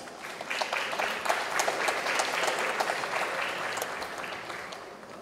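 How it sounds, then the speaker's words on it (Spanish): An audience at an international circular economy forum claps for a speaker, a steady dense patter of applause lasting several seconds with no voices over it. "La recibimos con fuertes aplausos."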